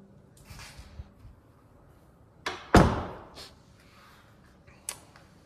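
A solid core door in a custom house closing with a sharp, heavy thud near the middle, followed by softer clicks and taps around it in an otherwise quiet room.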